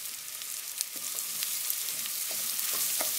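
Lentils and chili sizzling in a pot for lentil soup, a steady soft frying hiss with faint scrapes and knocks of a spoon stirring through, no talk.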